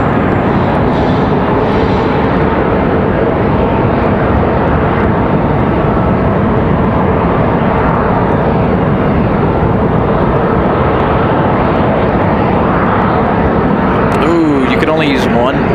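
An Airbus A220 airliner at Raleigh-Durham International Airport on a windy day, its engine noise a sustained broadband roar mixed with wind buffeting, loud and steady, with a brief burst of other sound near the end.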